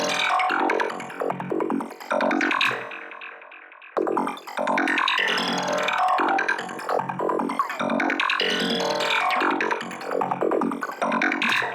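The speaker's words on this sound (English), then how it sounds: "I've added this new lead, and this is a lead called Sample and Hold Runner in here" Synth lead preset called Sample and Hold Runner, a looping sequenced lead drenched in delay, plays alone for the whole stretch with busy stepped notes and one brief dip before resuming.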